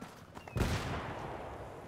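Gunfire in the video game Battlefield 3 bursts out as a sudden loud volley with a sharp crack, then fades into a rolling echo and a lingering rumble.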